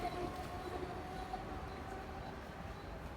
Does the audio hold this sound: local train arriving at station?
yes